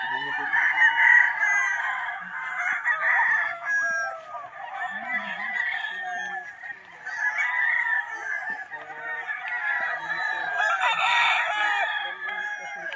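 Many gamecocks crow continuously at a game fowl farm, with overlapping loud calls from several birds near and far and occasional clucks and honking in the mix.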